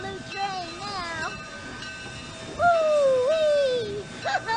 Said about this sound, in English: All aboard! We're getting on a blue train!